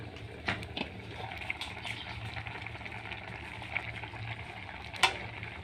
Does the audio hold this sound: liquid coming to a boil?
yes